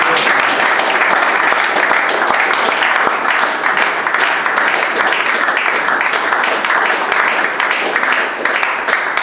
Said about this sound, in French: Si les hommes peuvent applaudir pour nos femmes